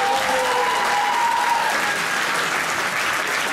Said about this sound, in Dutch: graag een sportief applaus voor beide dames